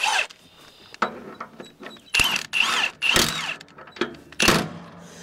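A power driver tightens bolts on Woodland Mills HM126 sawmill bearings in short bursts of whirring and ratcheting clicks, each lasting under a second, separated by quiet gaps and close metallic taps.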